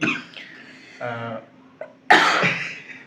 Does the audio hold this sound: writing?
no